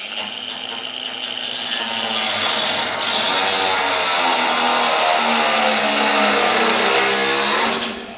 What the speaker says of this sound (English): I'm gonna grind this off here.